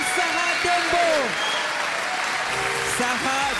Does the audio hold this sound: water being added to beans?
no